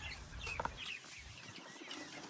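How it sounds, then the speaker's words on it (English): Chickens clucking softly at a family's backyard coop, a few short clucks heard at a distance under low ambient noise. "Okay, the chickens."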